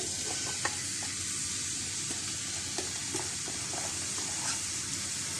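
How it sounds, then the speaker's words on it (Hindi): Sliced onions sizzle steadily in hot oil for a biryani, a dense continuous frying hiss with a few soft clicks of stirring throughout, close and alone with no talk. "अब इसमें जैसे ही ऑयल गर्म होता है तो ये सारी प्याज इसमें डाल देंगे"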